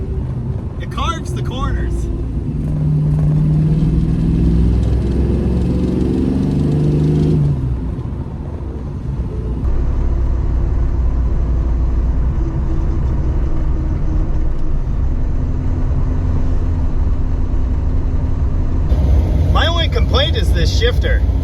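A Hemi-swapped Dodge Challenger drives along with a steady, loud engine rumble and a rise in revs as it carves through corners, with someone talking briefly at the start and end.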